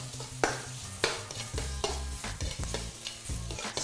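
Ginger, garlic and spring onion stir-fry in a hot wok for General Tso's chicken, a close crackling sizzle punctuated by repeated loud scraping and clanking strokes of the spatula.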